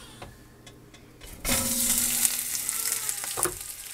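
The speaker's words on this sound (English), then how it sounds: "I'm just going to sear all 4 sides and then pull it out" A ham bone drops into a hot pot and bursts into a loud, steady sizzle that carries on with small pops and crackles, following a few quiet knocks and clinks.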